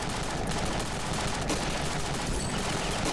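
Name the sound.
tank turret firing in video game Ravenfield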